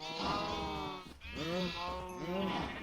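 Sheep bleating in Minecraft, two or three wavering bleats in quick succession, clear and fairly close over a faint background.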